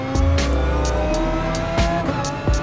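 A Gr.3 race car in Gran Turismo Sport roars at high revs with squealing tires during a race for first place. The engine sound is loud and continuous, with short skids and gear changes and no voices.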